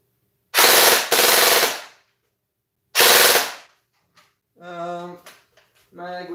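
Toy gel blaster firing gel balls in two loud rapid bursts, a longer volley then a shorter one, followed by someone speaking in a short pause afterward.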